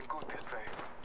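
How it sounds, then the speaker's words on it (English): Bursts of video-game gunfire crackle briefly beneath someone talking, loud and close, with sharp broadband snaps spread through the short moment. "I'm getting shot at."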